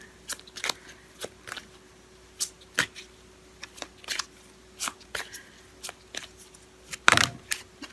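Oracle cards being shuffled and drawn, with a series of soft, sharp flicks and riffles close by at an uneven pace, ending in a louder burst of card shuffling.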